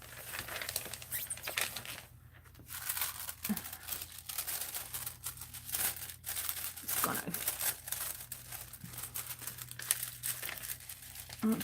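Sheets of foil crinkle and crackle close by as they are handled and pressed into an art journal, a steady, dense rustling that continues for several seconds with a brief lull partway through.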